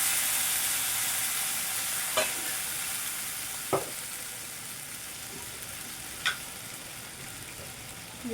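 Onion, chili, ginger paste and cumin fry in a pan with a steady, quiet hiss, broken by a few sharp clinks of a spoon against the pan, with no one talking.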